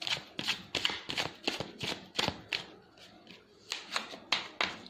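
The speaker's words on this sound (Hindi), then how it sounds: "Last shuffle." Tarot cards are shuffled close up in a quick series of crisp riffling bursts with a short pause midway, and no talking.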